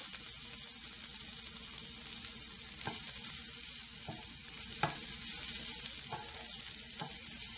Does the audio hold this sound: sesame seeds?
yes